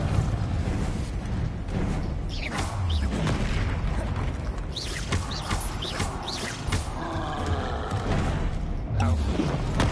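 Spell-casting combat in the Hogwarts Legacy video game, with dense, continuous booms, blasts and crashing impacts layered over game noise and music, loud throughout.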